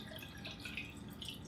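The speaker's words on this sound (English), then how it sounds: "and then we just fill it up with water" Water pours into a vase holding a cut orchid for a floral arrangement, a soft, continuous trickle with faint dripping, quiet and close, with no talking.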